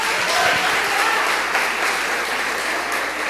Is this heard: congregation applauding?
yes